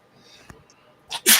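A person sneezes indoors: a brief, faint lead-in, then one sharp, loud, breathy burst close to the microphone at the end, with no talk.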